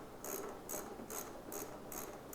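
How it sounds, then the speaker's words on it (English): A ratchet clicks in quick, even bursts, about five short pawl chatters, while it removes the 14mm caliper bolts on a 2014 Honda VFR800F, faint and close with no talk. "we're going to do is remove the 14mm bolts which hold our caliper on"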